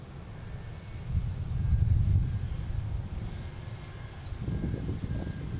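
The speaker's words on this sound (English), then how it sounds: "We got KLM coming in here on 22 left from Amsterdam, an A330 200 flight 617." A KLM Airbus A330-200 from Amsterdam arriving on runway 22 Left at Boston Logan, a low distant engine rumble that swells, eases, then rises again.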